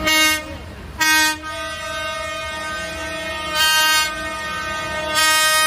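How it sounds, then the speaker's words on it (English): Loud, sustained horns blare in repeated blasts from a protest convoy of German farmers rolling into Berlin, with several long honks separated by short pauses and no talk. "The sound of honking."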